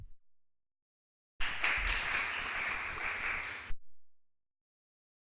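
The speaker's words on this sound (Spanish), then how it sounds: "un fuerte aplauso para el ingeniero Rolando Castillo" Audience at a seminar on earthquake protection applauds an engineer, a brief burst of clapping lasting about two seconds that stands alone between silences.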